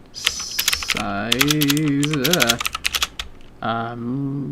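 Fingers type on a computer keyboard in quick bursts of clicks, interrupted by a voice that hums or vocalizes in long tonal stretches over the typing.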